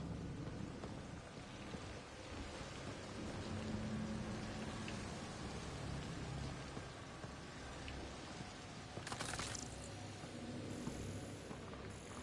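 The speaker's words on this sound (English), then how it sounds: "It's raining." Steady rain falls in the game Mass Effect, a dense even hiss of drops that continues throughout, with a sharper crackle near the end and no speech.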